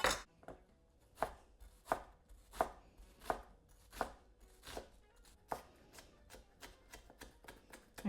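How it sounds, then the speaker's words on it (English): A knife finely chops one onion on a board for a home-cooked chicken kebab, giving a steady series of crisp, close taps roughly every two-thirds of a second, quiet and with no talking. "Just going to finely chop 1 onion."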